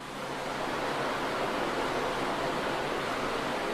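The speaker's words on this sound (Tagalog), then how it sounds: "Ang tubig mula sa bukal ng Gihon ay dumadaloy pa rin dito hanggang ngayon" Water from the Gihon spring in old Jerusalem rushes steadily as a constant, even hiss, close and uninterrupted with no voices.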